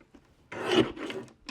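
A paper trimmer blade slides through cardstock being cut for handmade cards, making one dry, rasping scrape that lasts under a second, close and fairly loud, with quiet before it.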